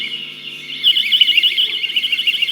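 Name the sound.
personal alarm device triggered by pulling its trigger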